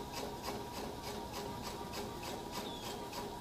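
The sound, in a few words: sewing machine stitching a bow tie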